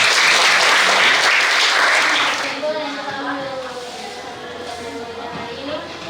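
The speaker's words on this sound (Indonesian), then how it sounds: "Oke, tepuk tangan dulu ya." Students in a vocational high school classroom clap together in a loud burst that lasts a couple of seconds, then fades as a voice begins speaking over the room.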